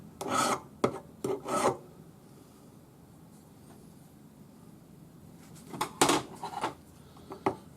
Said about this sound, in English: Scrub the file sideways as you push.